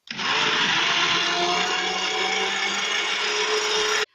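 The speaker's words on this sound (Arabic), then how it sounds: "ضفتها اهو جوه الخلاط وهبتدي ان انا اضربها كويس جدا مع بعضها." A blender whirs loudly and steadily for a few seconds, beating Swiss roll cake batter, starting and stopping abruptly.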